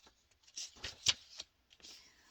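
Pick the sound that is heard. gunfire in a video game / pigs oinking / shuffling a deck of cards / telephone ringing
shuffling a deck of cards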